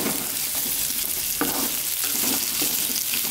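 Spices with bay leaves, lime leaves, ginger, turmeric and lemongrass sautéing in a pan for fish soup: a dense, steady sizzle with a few scraping stirs, close and fairly loud, with no speech.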